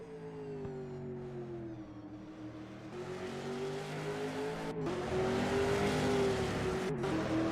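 A V8 Supercar racing engine from a sim racing game, the Tickford Racing number 6 car at Sydney Motorsport Park at night, drones steadily with rising revs and brief gear-shift dips, loud and continuous, without talk.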